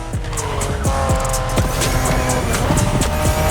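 A Honda NSX sports car engine in the video game The Crew Motorfest revs loudly and continuously with gear changes and tire squeal, sustained throughout at close range.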